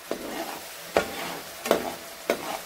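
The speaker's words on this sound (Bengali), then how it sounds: "এখন মশলাটাকে আমি অনেকক্ষণ সিদ্ধ করে নিব, এভাবে নেড়ে চেড়ে কষিয়ে নিব যতক্ষণ পর্যন্ত না তেলটা উঠে আসছে।" Masala for Punjabi chicken curry frying in oil and stirred in a pan: four sharp scraping strokes at a steady rhythm over a low sizzle, close and moderately quiet, with no speech.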